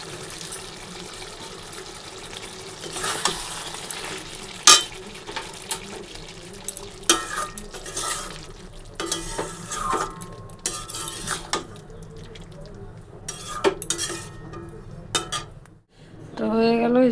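Pointed gourd curry stirred and frying in a pan with garam masala, oil darkened from earlier frying; steady sizzle with repeated scraping and clinking of a spoon against the pan, close and fairly loud.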